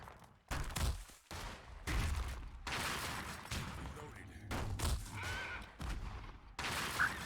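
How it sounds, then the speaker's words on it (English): Gunfire bursts from musketeer units in the real-time strategy game Battle Realms: Zen Edition, a rolling volley of shots and thumps spread through a busy battle mix under spoken commentary. "that's where the blast shot from the musketeers is going to help me"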